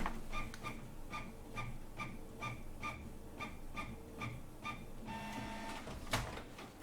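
An inkjet printer runs its cleaning cycle with a steady series of short mechanical whirs and clicks, repeating about every half second, then a louder grinding burst and a sharp clack near the end.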